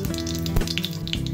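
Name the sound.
mustard seeds sizzling in hot oil for tempering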